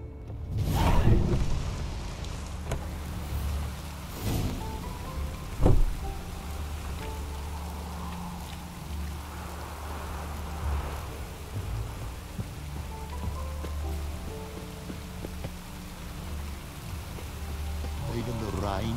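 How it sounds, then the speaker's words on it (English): Steady rain falls in The Witcher: Wild Hunt, a soft continuous patter under a low rumble, with a few sharper knocks and a muffled whoosh, while game characters' voices come through faintly. "Even the rain smells different here."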